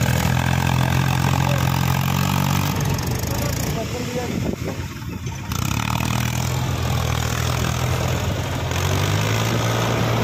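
A small Mahindra tractor engine roars loudly and strains without letup under heavy load, a dense, steady, heavy rumble close by for the whole stretch.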